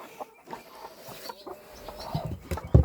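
A broody hen settling onto eggs clucks in short, soft bursts, growing a little louder and busier toward the end, with a few rustling movements close by.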